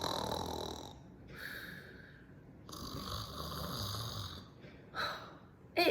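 Mummy and Daddy snore together in long, rasping, droning breaths, loud and close, with overlapping raspy snores and a short snort near the end.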